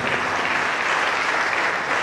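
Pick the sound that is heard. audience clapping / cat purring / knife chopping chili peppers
audience clapping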